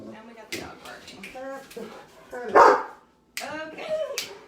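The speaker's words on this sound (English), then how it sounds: "we got the dog barking" A pet dog barks once, loud and close, in a home kitchen while a person keeps talking around it.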